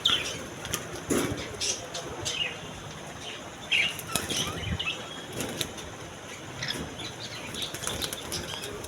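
Cockatiels and doves flap their wings in cages at a bird shop, a run of close fluttering bursts mixed with scattered chirps and faint cooing, with some voices in the background.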